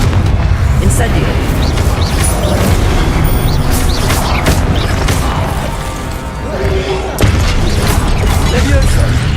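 Spell blasts in the video game Hogwarts Legacy, dense booming crashes and whooshing impacts in rapid succession, loud and continuous, with a voice speaking over them.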